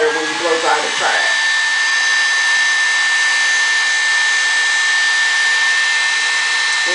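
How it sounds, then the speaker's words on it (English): A hair dryer blows hot air over a glued hair weave track during a part weave touch-up. It starts with a brief rustle, then gives a steady, loud, continuous whir with a high whine that holds for several seconds. "Just go ahead and blow dry the actual track"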